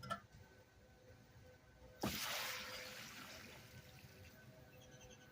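Muriatic acid solution poured into a large tub to dissolve old LCD screens: a sudden splashing gush that starts partway through, then a long fading trickle in a quiet room.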